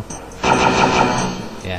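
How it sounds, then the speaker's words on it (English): Rapid bursts from the Dragon Claw weapon in the game Heretic, a quick mechanical rattle of several shots lasting about a second, with a voice briefly speaking just before. "Yeah, that was the sound of the Dragon Claw."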